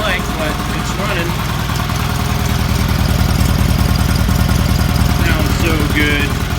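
A Roper RT16T clone garden tractor engine runs steadily at close range, a loud continuous throbbing drone with a fast regular pulse, freshly started on carb cleaner and settling into an even idle.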